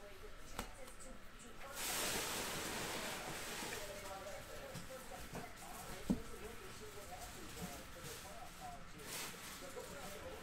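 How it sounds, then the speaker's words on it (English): Heavy pouring rain makes a dense, steady hiss that swells after the first couple of seconds and holds, with muffled voices faintly underneath. "It's pouring rain."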